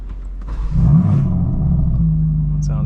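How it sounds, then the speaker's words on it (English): A custom 2025 BMW M4 CS engine starts in its loudest mode, a close rumbling crank that swells into a deep revving burst before settling to a steady, throaty idle. "Start this thing up the loudest way possible."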